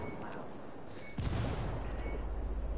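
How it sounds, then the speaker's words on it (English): Gunfire in the video game Ghost Recon, a dense, steady fusillade that starts abruptly and keeps rolling at close range, heavy and continuous to the end, with game effects layered over it. "I'm under fire."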